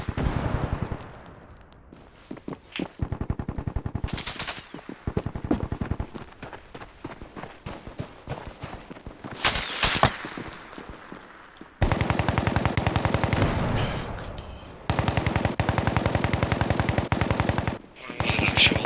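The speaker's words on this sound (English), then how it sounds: "Alpha taking direct fire from our west, the 301." Bursts of rapid rifle and machine-gun fire crack close and loud in a tactical military game, coming in repeated volleys with brief pauses, a radio voice occasionally audible under the shooting.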